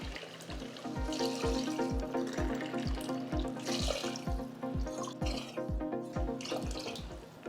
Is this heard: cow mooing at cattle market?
no